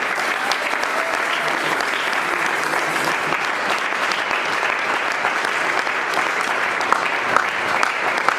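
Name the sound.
congregation cheering and applauding the Lord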